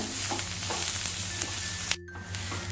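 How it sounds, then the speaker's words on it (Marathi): Finely chopped onions, three medium ones, sizzle loudly in hot oil in a pan, a steady close frying hiss with a brief dip near the end. "तीन मध्यम आकाराचे कांदे बारीक चिरून घेतले ते तेलावरती पॅनमध्ये घालूया आणि चांगला कांदा आपल्याला सोनेरी रंगावरती मस्त असा परतवून घ्यायचा आहे"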